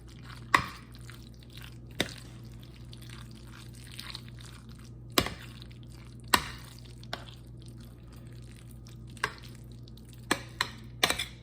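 Ingredients are stirred into macaroni and cheese in a pot, with sharp, irregular knocks of the utensil against the pot every second or two over a steady low hum.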